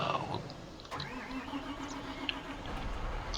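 A tractor engine runs steadily in a farming video game, a continuous mid-pitched drone at moderate level with a faint tick partway through and no talk over it.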